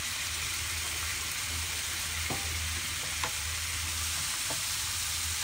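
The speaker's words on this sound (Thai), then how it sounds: "พอเราผัดคลุกเคล้าเข้ากันดีแล้วนะคะสุดท้ายก็จะใส่ใบโหระพาค่ะ" Mussels stir-fried in a pan with basil leaves give a steady, close sizzle of hot oil, with a few light clinks of a utensil against the pan; nobody speaks.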